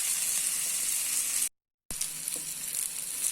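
Vanjaram fish fillets frying in oil in a pan, a steady loud sizzle and hiss that cuts out for a moment and then carries on unchanged.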